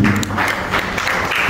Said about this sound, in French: On applaudit pour madame Odia qui est dans la salle